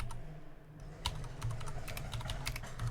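Someone types a command on a computer keyboard, with a short burst of quiet, close key clicks after a brief pause and a low background hum.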